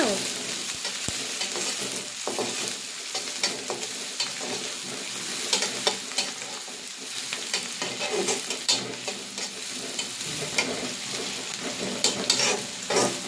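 Green chillies and onions fry in hot oil for a crab curry, with a continuous crackling sizzle and frequent spatula scrapes and knocks against the pan, close and fairly loud.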